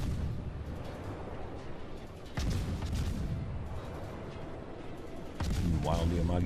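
Heavy naval guns fire in World of Warships with deep, booming blasts, two sharp salvos rolling over a constant loud battle rumble, while a voice talks through the action.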